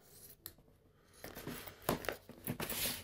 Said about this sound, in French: Ce qu'il faut donc faire, c'est découper des rondelles de chambre à air.